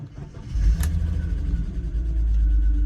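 An old abandoned BMW E46 cranks and catches, its engine rumbling up loud and close for a couple of seconds before cutting out and falling away.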